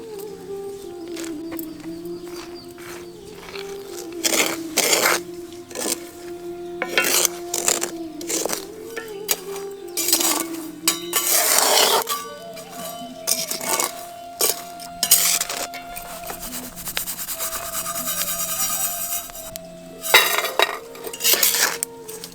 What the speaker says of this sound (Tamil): மணல் நல்லா சூடானதும் கடலக்கொட்டையை மணல்ல சேர்த்து வறுக்க ஆரம்பிச்சிடலாம்